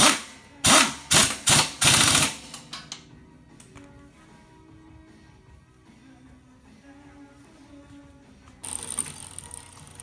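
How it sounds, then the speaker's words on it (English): A half-inch wrench tightens 5/16-inch bolts while a centrifugal clutch is fitted to a motor. A quick run of loud, close ratcheting clicks lasts about two seconds, then the work goes quiet with faint handling noises. "And these are 5/16 of an inch bolts, which is a 1/2 inch wrench."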